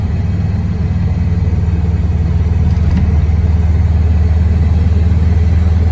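A lowered VW Super Beetle is being driven, its engine giving a loud, steady low drone with heavy road and cabin rumble that holds constant throughout.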